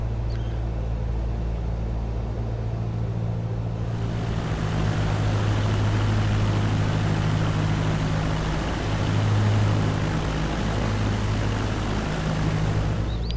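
Light propeller aircraft taxiing at an island airfield, a loud continuous engine drone with a steady low hum, swelling noticeably after the first few seconds and holding at a strong, close level.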